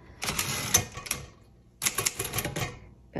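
Two bursts of rapid metallic clatter and clicks from working the margin release on a 1956 Underwood Universal manual typewriter, close and moderately loud, separated by a short pause, with no talking.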